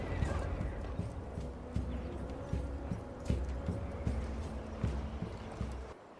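Horse hooves gallop in the Assassin's Creed Valhalla video game, a steady rhythmic clip-clop of repeated hoofbeats at a fast pace, close and moderately loud, ending abruptly.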